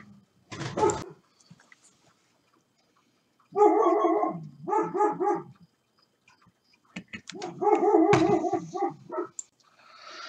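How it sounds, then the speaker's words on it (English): A pet dog yaps and barks in sharp, clustered bursts, one quick yelp followed by two longer runs of rapid, close, loud barking with brief pauses between them. "I've got a dog that just loves to yap."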